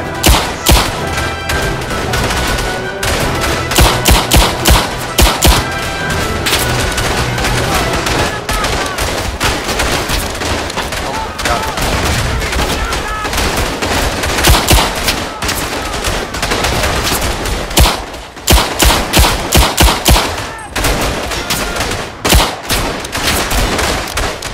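Relentless gunfire from a German infantry attack in the World War I multiplayer game Verdun: loud, dense rifle and machine-gun cracks overlap in rapid irregular bursts, sustained almost without pause, with occasional heavier shots punching through.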